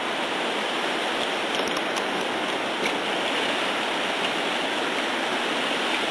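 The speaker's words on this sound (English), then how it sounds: "Everything's solid, it's just that the river is extremely high." The flood-swollen river at Quesnel, running extremely high under the Moffat Bridge in May 2008, rushes past as a steady, loud, unbroken roar of water with no pause.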